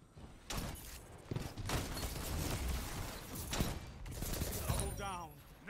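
Loud shotgun blasts and gunfire in a team-based shooter video game, several heavy shots spread across a busy fight with bursts of effects between them.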